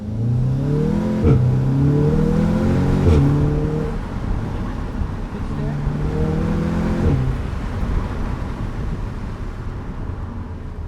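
An Audi S3 in dynamic mode accelerates hard, its engine revving up through rising gear pulls with shift breaks, loud and close from inside the car, before settling into a steadier drone.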